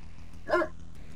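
A single short dog bark from the Command & Conquer Red Alert game, brief and mid-loud over a steady low game hum.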